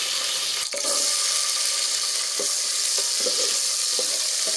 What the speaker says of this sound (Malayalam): നമുക്ക് കുറച്ച് നെയ്യ് ഒഴിച്ച് അണ്ടിപ്പരിപ്പും കിസ്മിസും ഒക്കെ ഇട്ട് ഒന്ന് വറുക്കാം